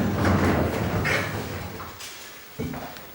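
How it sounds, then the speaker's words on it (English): A barn wood sliding door rolls along its track as it is slid into place, giving a steady rumbling glide that fades, then a soft knock as it stops, close by. "go ahead and put your door in place. Slide one of them down."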